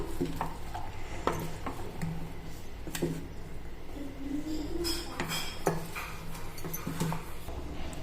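Sweet corn mixed with lemon juice in a bowl, the spoon clinking and scraping against the dish in a quick, irregular series of close taps and rattles, no talk.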